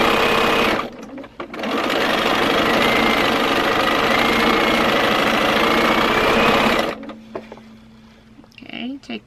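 Sewing machine stitching quilt back pieces made from project leftovers, a steady close mechanical whir in a long run of about six seconds after a brief start, then stopping to quieter handling sounds.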